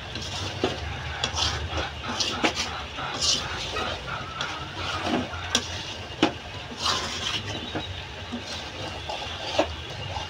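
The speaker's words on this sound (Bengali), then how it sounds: "ভাজা মশলা দিয়ে ভালো মতো মিশিয়ে নেব।" Steady stirring and scraping in a pan as fried spices are mixed into mango pickle, with a few sharp clinks of a spoon against the metal, close by and continuous.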